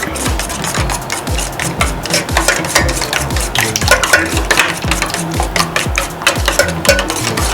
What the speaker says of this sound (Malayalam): ഇനി നമുക്കിതൊന്ന് നന്നായിട്ട് ബ്ലെൻഡ് ചെയ്തെടുക്കാം